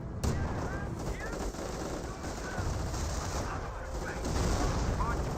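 Ostwind flak tank in Company of Heroes firing on a rifleman squad, rapid bursts of autocannon and gunfire crackling amid battle noise, with a voice commentating over it.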